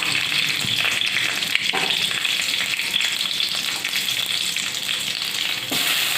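Bay leaves with dried and green chillies fry in hot oil for khichuri, giving a loud, steady, close sizzle and crackle with occasional stirring, and no voices.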